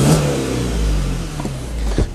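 A 2005 BMW 120i with 91,000 km revs sharply from idle, its engine note snapping up quickly and dropping back, loud and close with a steady low rumble underneath.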